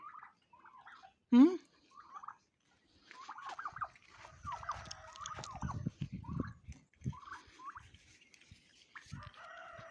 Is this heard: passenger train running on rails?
no